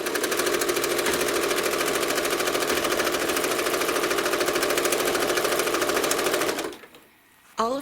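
A home sewing machine runs steadily for about seven seconds while machine quilting feather motifs, a fast even stitching rattle, close and loud, then stops abruptly with a brief quiet gap before starting again.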